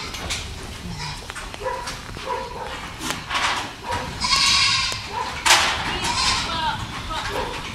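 Goats on a goat farm bleating repeatedly near and at middle distance, their cries rising over a person talking in the foreground amid outdoor rustle.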